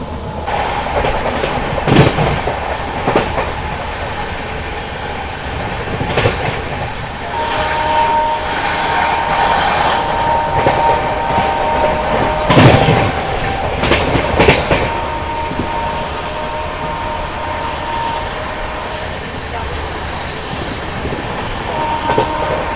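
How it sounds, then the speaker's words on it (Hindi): Amritsar Swarna Shatabdi Express running through Kurukshetra Junction without stopping: steady loud rolling rumble with clattering wheel beats and a sustained horn-like tone in the middle, no talk. "अभी अपनी ट्रेन स्किप मार रही है कुरुक्षेत्र जंक्शन रेलवे स्टेशन।"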